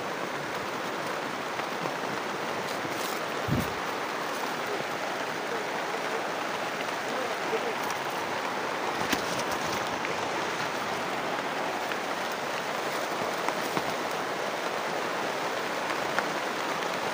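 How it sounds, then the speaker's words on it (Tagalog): Heavy rain pours down without letup, a dense, even hiss of drops on surfaces with a few faint knocks, steady and close, no voices. "napakalakas talaga ng ulan."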